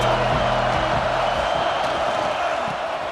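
A stadium crowd in the college football video game College Football 26 roars continuously, a loud, dense wash of cheering and whooping that holds steady throughout, with a faint low horn-like tone underneath early on.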